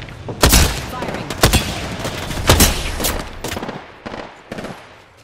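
Gunfire in a video game firefight: loud, close bursts of rapid shots and single cracks in uneven clusters, fading to scattered shots toward the end.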